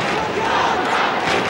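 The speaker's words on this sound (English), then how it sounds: "Kangaroo supporters just get on their feet to applaud their hero" Kangaroos supporters rise at an Australian football match in 2005, a dense crowd roar of cheering and applause filling the whole moment, loud and unbroken.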